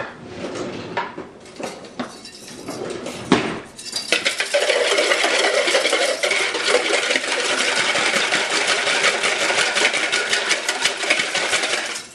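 Eggs being beaten for Christmas sugar cookie dough, a rapid, steady whirring rattle against a bowl that starts after a few soft clinks and keeps going loud and close.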